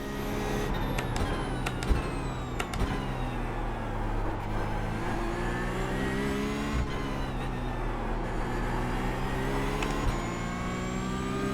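A Porsche Cup racing car engine in a sim racing game at Imola drones and revs steadily, climbing through gears with brief dips at shifts and occasional clicks, alone and fairly loud.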